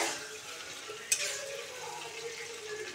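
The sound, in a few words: ridge gourd frying and being stirred in a pan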